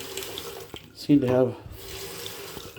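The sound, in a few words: water running from bathroom sink faucet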